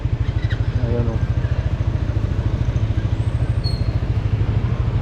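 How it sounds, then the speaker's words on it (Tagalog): A motorcycle rides through the inside of a market in Taiwan, its engine putting out a steady, close, low putter of rapid even pulses for the whole stretch, with faint voices in the background. "dito sa Taiwan pala pwedeng ipasok yung ating motor sa loob ng palengke"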